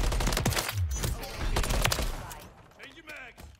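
MCW rifle fire in Modern Warfare 3 comes as loud, rapid bursts of shots up close, fading to quieter game sounds with a voice talking over the action.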